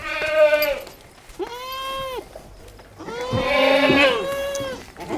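A goat bleats several times in close succession, loud and near, with wavering, nasal cries and short pauses between them.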